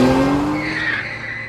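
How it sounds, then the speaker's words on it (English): A car skids and screeches to a halt in an audio drama, a loud, sustained tire squeal with engine noise that fades slightly over about a second and a half, with no voices. "a car screeched to a stop in front of us"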